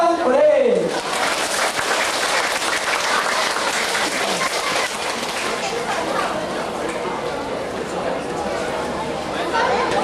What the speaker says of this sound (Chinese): 掌声鼓励。